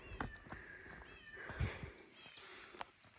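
A cat meows several times along the Appalachian Trail near Thomas Knob Shelter, short, close, fairly soft calls spaced through a quiet outdoor background.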